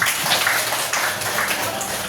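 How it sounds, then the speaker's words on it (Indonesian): Classmates in a Grade 6 classroom applaud for a student named Ben, a dense burst of close, steady clapping that fills the whole moment. "Oke, tepuk tangan untuk Ben."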